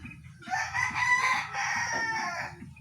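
A fat pet chicken crows in one long drawn-out call, close and clear, with soft low clucking and background rumble beneath it.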